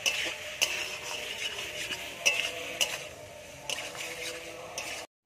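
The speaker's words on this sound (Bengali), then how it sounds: "এবার আলু ফুলকপিটা দিয়ে দেব। ভালো করে কষিয়ে নেব আরেকবার।" Potato and cauliflower being stirred and sautéed in spice paste in a pan: repeated sharp spoon clinks and scrapes at irregular intervals over a soft background sizzle.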